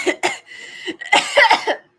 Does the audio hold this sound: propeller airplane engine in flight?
no